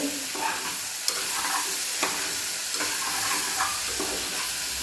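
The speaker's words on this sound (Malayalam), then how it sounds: "നന്നായിട്ട് ഇളക്കി കൊടുക്കാം." Filling cooked with salt in ghee in a pan, stirred by spatula: a bright, constant sizzle with a few distinct scrapes and taps against the metal, close up.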